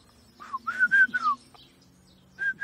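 A person whistles in short, bird-like rising and falling notes, a quick run of four or five phrases followed by a pause and two more brief whistles, as in a whistled form of Spanish; no talking.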